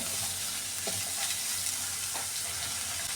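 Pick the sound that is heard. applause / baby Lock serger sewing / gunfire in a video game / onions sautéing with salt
onions sautéing with salt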